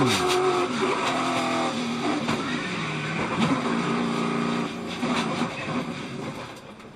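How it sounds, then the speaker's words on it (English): Race cars at the Daytona 500 roar past loudly after a huge multi-car pileup near the end of the race, engines droning and shifting pitch continuously, with commentators talking over the noise. "Huge pileup near the end of the Daytona 500."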